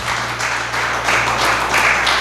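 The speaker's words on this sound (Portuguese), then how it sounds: "Aplauda ao Senhor Jesus por isso." Steady, loud applause from a church congregation fills the space, a continuous wash of many hands clapping that holds evenly throughout, with a low sustained hum beneath it.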